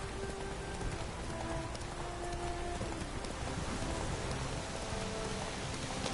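A horse gallops in The Witcher 3, its hoofbeats blurred into a continuous rain-like patter. The sound is faint and fairly even throughout, with no one speaking.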